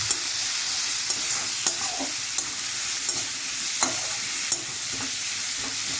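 Onions frying over medium-low heat and stirred in a pan with tongs, giving a continuous close hiss of sizzling oil broken by soft, regular scraping strokes.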